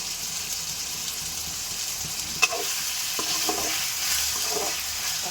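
Tomatoes sauté with salt in a pan, a steady soft sizzle with occasional clicks and stirring scrapes, heard alone at a moderate distance.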